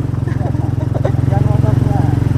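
A motorcycle engine thrums steadily and close by as it climbs a rough, uphill macadam track, its low pulsing drone continuous throughout, with people talking over it.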